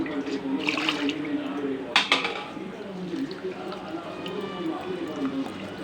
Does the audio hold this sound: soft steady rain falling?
no